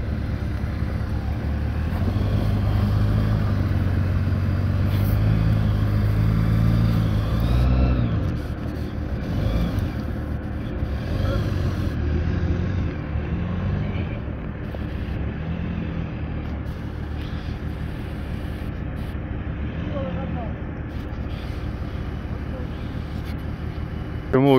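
Heavy vehicle engines drone and labour on an off-road trail while a stuck off-road car is pulled free, with rising revs partway through and people talking over the steady mechanical noise.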